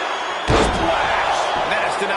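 A splash slam lands in the WWE 2K25 wrestling video game on PS5 as one sharp, heavy thud about half a second in, over a steady crowd roar with commentary talk.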